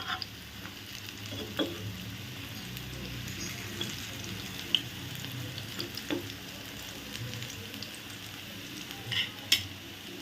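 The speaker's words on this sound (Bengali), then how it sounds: "অলরেডি ফ্রাইং প্যানে ধনে পাতা দিই ধনে পাতার বড়া করব" Coriander leaf fritters frying in oil in a frying pan, a steady close sizzle and crackle with occasional stirring clinks, no talking.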